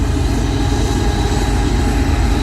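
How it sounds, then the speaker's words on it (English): An empty potash train rolls past in a steady, loud low rumble that holds unchanged throughout, with no voices. "empty potash train."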